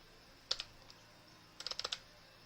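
Keys tapped on a computer keyboard while coding an Arduino night-light project: a brief click pair, then a quick burst of about six close keystrokes, faint over a quiet room.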